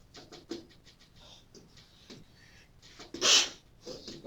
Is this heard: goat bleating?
no